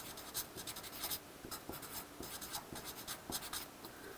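A pen scratches steadily across paper in quick, short strokes, faint and close, with no voices.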